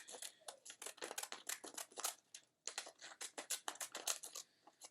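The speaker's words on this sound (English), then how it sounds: "So I'm cutting on my spiral line." Scissors snip paper along a spiral line for a 3D paper flower craft. The cuts come as a quick, steady run of close, crisp snips with short pauses between them, and no one speaks.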